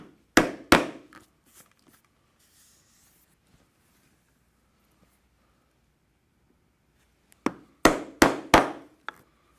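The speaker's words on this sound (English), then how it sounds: "we will punch two holes as indicated in the upper corners" Holes punched in the back piece of a leather backpack: a few sharp, close, loud knocks, then a long quiet gap, then another quick cluster of four or five strikes.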